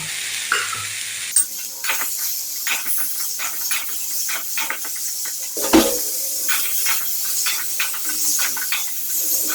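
Peas and potatoes sauté in spices for a vegetarian aloo dum, a constant crackling sizzle with frequent scraping stirs and one louder clatter midway.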